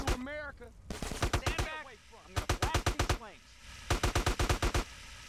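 Gunfire in the video game GTA San Andreas: rapid bursts of sharp automatic shots come in several quick volleys, close and loud, with someone talking over the opening shots.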